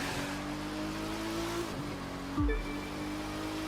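In The Crew 2, a car engine hums steadily while the car power-slides and drifts, its tone shifting partway through before a brief surge near the end.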